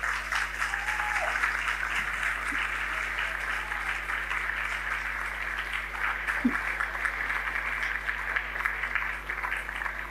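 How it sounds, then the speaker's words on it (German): Audience applause for runner Tadesse Abraham at a panel discussion, a steady, even wash of many hands clapping that holds for the whole stretch at moderate volume, somewhat distant. "Einen grossen Applaus für den Tade Abraham!"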